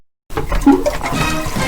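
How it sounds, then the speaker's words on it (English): A toilet flushes close up, a sudden rushing swirl of water that begins after a moment of silence and keeps gushing steadily to the end, with no voices. "Don't flush it! Don't flush it!"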